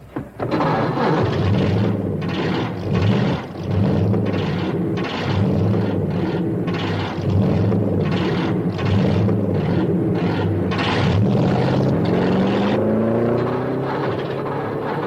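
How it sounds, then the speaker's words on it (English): Racing car engines started together at an old-time race, a loud continuous roar with pulsing rhythmic revving and rising whine as they run close by. "Gentlemen, start your engines."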